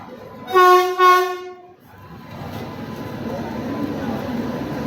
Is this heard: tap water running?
no